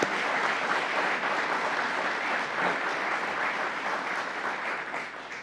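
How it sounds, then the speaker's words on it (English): A crowd at a public safety event in Rochester applauds law enforcement, with steady, dense clapping that holds evenly for several seconds before easing slightly at the end. "Let's give all the members of law enforcement a round of applause"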